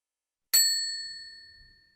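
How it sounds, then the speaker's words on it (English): A single bright ding from a timer bell at an online environmental forum, warning that 30 seconds remain, struck once and left to ring out with a long, clear, fading tone in otherwise silent surroundings. "so I heard that bell"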